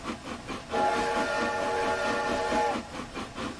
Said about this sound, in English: the same whistle recording, the generic sort of freeware sound effect for a steam locomotive